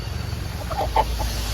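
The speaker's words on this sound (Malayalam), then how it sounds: "ഇതാണ് നമ്മുടെ കോഴികൾ കോഴികൾ വിളിക്കുന്നത്" A few short clucks from free-range country hens, fairly faint, over a low steady background hum.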